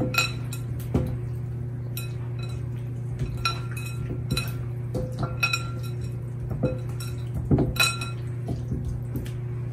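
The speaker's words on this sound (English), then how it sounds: "Then you're going to want to mix it all up." Ingredients for honey garlic chicken wings mixed in a bowl, with repeated clinks and knocks of utensil against the bowl over a steady low hum, irregular and fairly close.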